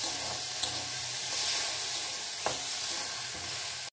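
Moong dal stirred as it fries in mustard oil, a steady close sizzling hiss with a soft scrape of the spoon partway through.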